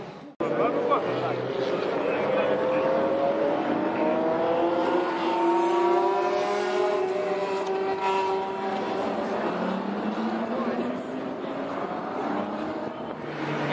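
Many Ferrari cars and Formula 1 machinery at the Interlagos circuit in Brazil produce a continuous engine drone with rising and falling harmonic whine, loud and steady throughout.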